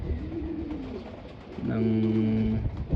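Young pigeons coo nearby, soft rolling calls followed by a louder, steady cooing phrase, with faint background noise.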